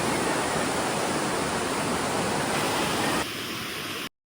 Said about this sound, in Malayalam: ഉറക്കത്ത് പോലും ഇങ്ങനെ കേൾക്കാം വെള്ളം പോകുന്ന ഒച്ച